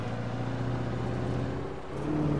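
Truck engine in the video game Alan Wake, a steady droning hum with a slight rise in pitch near the end as it drives, continuous and fairly close with no talk over it.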